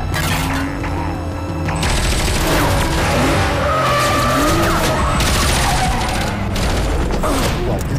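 A BMW Z4 skids and squeals its tyres through a loud chase, the engine roaring close up with repeated screeching slides and crashing impacts layered over a dense action soundtrack.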